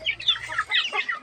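Chickens cluck in quick, overlapping bursts at close range during feeding, a busy, excited chorus with no talking.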